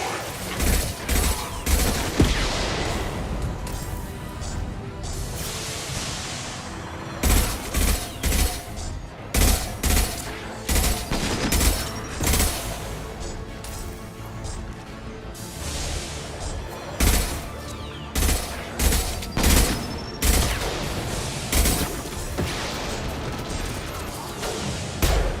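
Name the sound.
impact shot gunfire in Mass Effect video game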